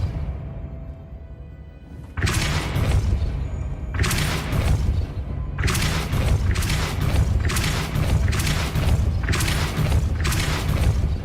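Depulso spell casts in Hogwarts Legacy, a series of heavy booming whooshes repeating roughly every second or two, loud and close, following a quieter opening stretch.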